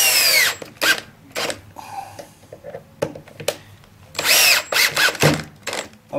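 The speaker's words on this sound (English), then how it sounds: "Now I want to put this, put the mounting screws on there so everything is perfectly lined up." A handheld power drill drives mounting screws while a new outdoor faucet is installed, coming as several loud, whining bursts of a few seconds each, separated by short pauses and handling noises.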